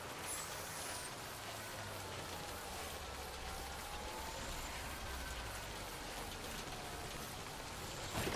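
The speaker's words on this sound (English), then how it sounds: "See, it started raining" Steady rain pours in Death Stranding 2, a dense, even hiss of drops that holds at one level for the whole stretch, with a faint low rumble underneath.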